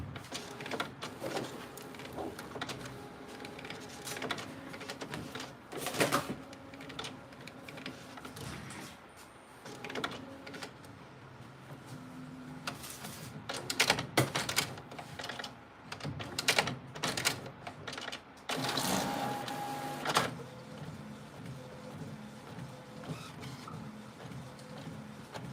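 A home printer runs a page for a Cricut craft project, whirring and clunking in mechanical passes with rattles and creaks, loud and close, with louder bursts as the paper feeds through.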